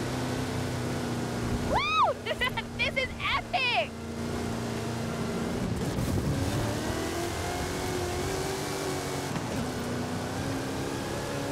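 A 540 cubic inch Chevrolet engine on a PEI XC1 chassis with 66-inch Terra tires drones steadily in Forza Horizon 5 during a Hot Wheels stunt event, with rising, sweeping rev tones early on over a continuous loud engine hum.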